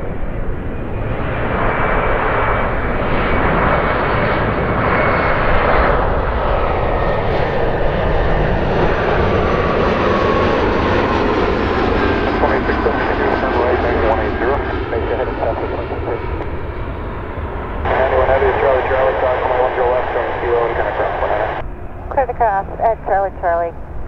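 Airliner departing Chicago O'Hare, its loud, steady jet engine roar building and holding near the runway, with air traffic control radio chatter running underneath.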